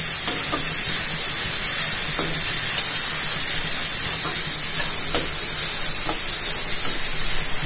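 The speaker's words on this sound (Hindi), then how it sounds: "देखिए इस तरह से मैं अभी थोड़ा सा भूनूंगी" Grated carrots for gajar halwa roasting in a pan give a steady, soft sizzling hiss throughout, with a few faint stirring scrapes and no talking.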